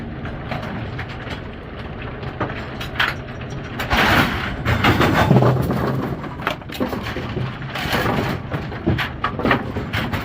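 Brunswick GS pinsetter distributor with freshly lubricated belt tracks feeding bowling pins, a steady close mechanical clatter of rolling, knocking pins and running gear, loudest midway, with no talk.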